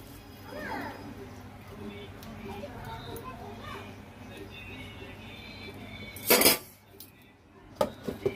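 A lid is set onto a cooking pot of boneless meat curry, giving a sharp metallic clatter partway through, followed by a few lighter clinks, against a quiet kitchen background with some speech.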